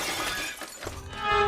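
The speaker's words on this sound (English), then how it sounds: "A loud, shattering noise came from the hallway." Glass shattering, a bright crashing break with scattered tinkling fragments, loud and close throughout the short moment.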